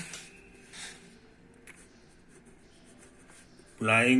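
Marker or pen writing on a board during a maths lecture: faint scratchy strokes in short bursts, with a voice speaking over the room.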